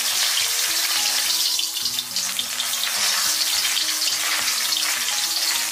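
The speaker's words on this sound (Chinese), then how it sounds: "要想煎出来的鱼尾不断，我们先将鱼尾给它下入锅中" A fish tail frying in hot oil in a wok gives a loud, continuous close sizzle that holds steady throughout, with no voices.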